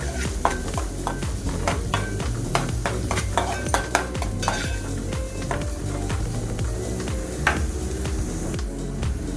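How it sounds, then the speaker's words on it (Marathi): Curry leaves sautéing in hot oil in a pan, with a steady close sizzle broken by frequent sharp scrapes and knocks of a stirring utensil against the pan. "आता आपण याच्यामध्ये कढीपत्ता ऍड करणार आहोत आणि थोडंसं तेलामध्ये परतून घ्यायचं आहे कढीपत्ता"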